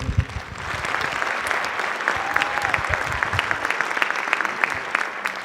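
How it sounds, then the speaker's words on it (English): A high school winter band concert audience gives sustained applause to the Jackson Television crew, a steady, close crowd of clapping with a brief voice over it. "one more round of applause for the Jackson Television for all that they do"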